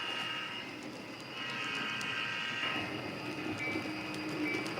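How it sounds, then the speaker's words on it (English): A train passing at night, heard as a steady rolling rumble with metallic wheel ringing and faint squealing, fairly distant and continuous throughout, with no talk. "That'll be the last train of the night."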